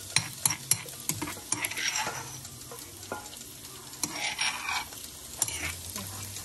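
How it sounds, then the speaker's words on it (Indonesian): Ground spice paste sizzles and spits as it fries in a hot pan while a utensil scrapes and stirs, making clinks against the metal throughout. "Kita goreng bumbu halusnya juga."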